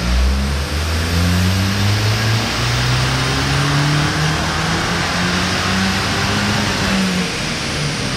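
A 2013 VW MK6 GTI engine revs hard on a dyno, a loud, continuous close roar rising through the gears with pitch climbing and dropping at each shift.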